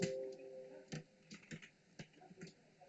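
Someone types text on a computer keyboard, a sparse and irregular series of soft, close key clicks with brief pauses, fairly quiet and free of speech.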